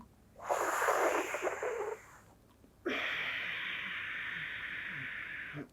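Yoga breathing as part of sitkari pranayama: a close, hissing inhalation drawn through a folded tongue, then a brief pause, then a second long, steady airy breath.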